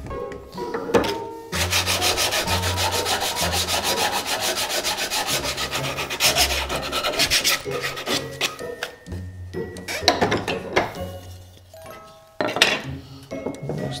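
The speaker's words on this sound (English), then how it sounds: "I'm showing you how to sand wood" Wood being sanded by hand while building a simple wooden sailboat: a steady, close, continuous rasping scrape that runs for long stretches, with brief pauses and a few light knocks and clinks between strokes.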